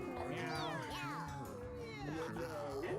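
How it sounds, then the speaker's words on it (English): Repeated cartoonish cat meows from the cat-battling video game Mewgenics, several rising and falling mews in quick succession over steady background game music, with a voice talking underneath. "Maybe we should go and get all the meow sound effects from this game"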